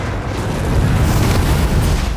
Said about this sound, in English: Drogon's fire blasting does a lot of damage.